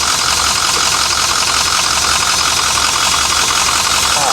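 A diesel bus engine idles in a continuous, loud, even rumble with a rough, knocking texture, holding steady throughout with no pauses.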